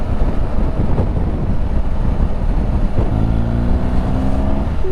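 A vehicle accelerates past while overtaking on the Burrington Combe road, heard as a loud steady engine and road roar under heavy wind noise, rising in pitch near the end.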